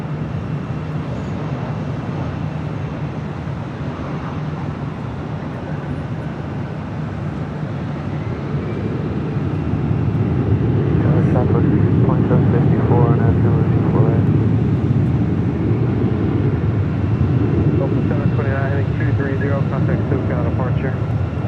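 A jet airliner takes off from runway 24 left at Los Angeles International Airport, a loud sustained roar that swells and builds over time, with a person talking over it.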